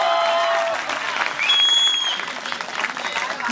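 An audience at a Hindi kavi sammelan poetry recital claps, a full wash of applause swelling and easing across the moment. Faint tonal sounds and some voice mix beneath the clapping.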